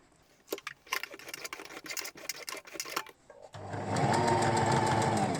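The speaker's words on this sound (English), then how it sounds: "so you can keep watching me while I sew these other ones as well" Sewing machine stitching a fabric book cover, first scattered taps and rustles of handling, then a steady fast whirring stitch run that grows loud and continuous toward the end.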